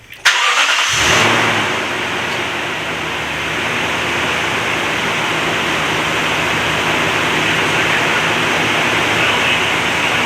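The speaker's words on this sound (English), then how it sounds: "I just hear engine." A 2016 Toyota Tundra 4.6L engine cranks and catches with a sharp start, then settles into a loud, steady rumbling idle that continues throughout.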